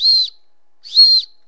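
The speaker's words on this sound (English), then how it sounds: "emergency whistle" An emergency whistle from an everyday-carry keychain kit gives two short, shrill, piercing blasts close by, separated by a brief pause, with no talk over them.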